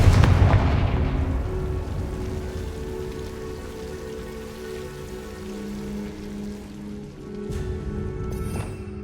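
Confringo fire spell in Hogwarts Legacy, a heavy explosive boom at the start that trails into a long rumbling, crackling decay under low ambient game tones, with a second softer impact near the end.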